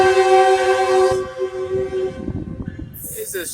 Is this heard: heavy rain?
no